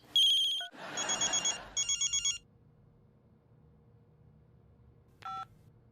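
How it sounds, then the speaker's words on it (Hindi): A phone call to dad starts with a quick burst of keypad tones, then repeated electronic ringtone pulses, followed by quiet and a brief final ring tone. "पापा को फोन लगा।"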